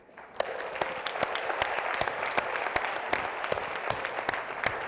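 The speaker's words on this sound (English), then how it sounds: "I want to give one more round of applause to SID-US." Guests at an annual gala dinner give a sustained round of applause, with sharp individual claps standing out above a thick, even wash of clapping that continues unbroken.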